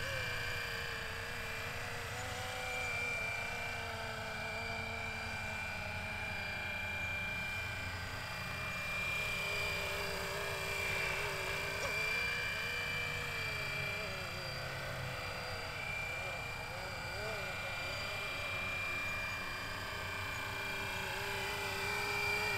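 A FlyWing Bell UH-1 Huey V4 GPS RC helicopter flies automatic figure eights, its steady, fairly loud rotor and motor whine holding continuously with slight shifts in pitch as it circles.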